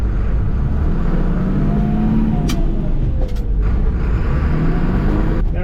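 A Ford F700 dump truck, bought at auction as inoperable, is put in gear and pulls away, its engine holding a loud, steady close-up rumble with a faint rising whine as it gets moving.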